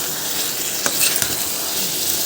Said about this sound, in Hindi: बस थोड़ी देर में फ्राई करते रहेंगे इसको